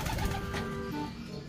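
Pet pigeons just returned home from Matnog, Sorsogon coo softly at close range, low rounded calls repeating over a steady background hum, with no voices.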